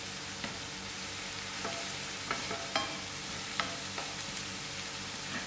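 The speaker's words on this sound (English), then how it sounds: "I'm going to use about 6 cloves of whole garlic to fry with the onions." Onions and six whole garlic cloves fry in a non-stick pan, giving a steady close sizzle with a few sharp pops and the occasional scrape of stirring throughout.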